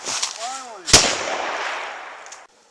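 A single sharp gunshot cracks nearby in a rural setting, fired at a plastic food container, with a long rumbling tail. A short voice is heard just before the shot.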